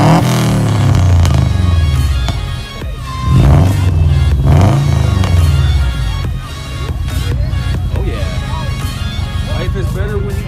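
A Subaru WRX with an STI engine swap, aftermarket turbo, exhaust and downpipe at a large car meet, revving loudly and close by in several rising and falling bursts, then settling to a rough idle.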